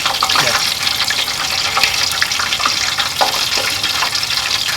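Liquid drains and drips from a 10-pound Thanksgiving turkey, a dense, continuous splattering wash of sound that stays close and loud throughout.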